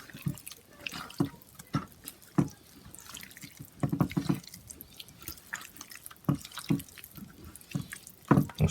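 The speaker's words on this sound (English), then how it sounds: "now I'm going to pour it over my cubes of lamb and combine those all together" Lemon, garlic, herb and olive oil marinade poured over cubes of lamb, a close, wet dripping and splashing with uneven spatters and trickles, no talking.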